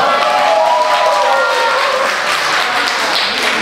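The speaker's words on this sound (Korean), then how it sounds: "형님에게 큰 박수 부탁드립니다." Audience applause at a Chuseok holiday concert in a live-music restaurant, loud, close clapping from a modest crowd that continues steadily and eases slightly toward the end.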